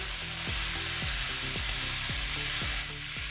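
Noodles with salt and red chili powder being mixed and fried, a dense continuous sizzle with a steady repeating rhythm of stirring strokes, close and without talk.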